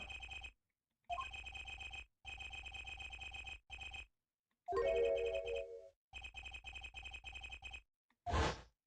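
A telephone rings in the Ace Attorney Apollo Justice video game, sounding in evenly spaced electronic bursts. A brief game sound effect cuts in partway through the ringing.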